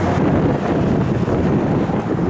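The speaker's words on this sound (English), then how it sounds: "Wind's rough." Strong wind roars steadily across the microphone outdoors beside a 1955 Ford F100 pickup, a constant loud rumbling gust with no voices.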